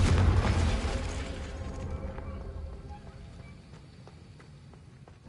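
A Confringo blasting spell explodes in Hogwarts Legacy, a loud, booming burst right at the start that rumbles and slowly fades away over several seconds.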